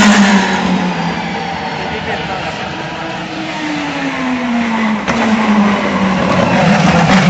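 IndyCar race cars at the São Paulo Indy 300 passing very close one after another, a loud sustained engine whine that swells, falls in pitch and sweeps past, with another car following.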